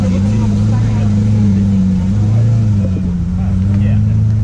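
A Porsche at the Columbus Cars and Coffee meet rolls past with a steady, loud low engine drone that holds evenly throughout, with voices over it.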